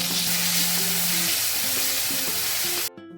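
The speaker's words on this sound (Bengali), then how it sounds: "এবার তেলের মধ্যে আদা রসুন আদা পেস্টটা রসুন বাটাটা দিয়ে দিতে হবে, দিয়ে ভালো করে ভাজা ভাজা করে নিতে হবে" Ginger garlic paste frying in hot oil with onions gives a loud, steady sizzle that runs unbroken, then cuts off abruptly just before the end.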